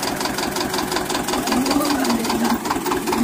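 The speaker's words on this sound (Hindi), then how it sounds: "ये आशे वाले ट्रैक्टर भी अच्छा ट्रैक्टर बनाते हैं भाई, पावर वाला है, दो सिलेंडर है जे" A two-cylinder tractor engine runs steadily close by with a rough, knocking idle and a faint rising whine, loud and alone with no talking.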